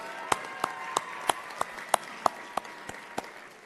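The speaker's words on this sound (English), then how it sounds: "Round of applause for this group as they get their nursing pins." Claps ring out at a nursing pinning ceremony during convocation: sparse, distinct hand claps in a steady rhythm of about three per second over a faint tonal hum.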